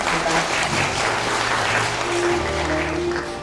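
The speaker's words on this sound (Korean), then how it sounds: "예, 박수 부탁드리겠습니다." Audience applause at a literary concert on stage welcomes the poet Seok Ji-yeon, a steady, dense wash of clapping held for several seconds before thinning slightly at the end.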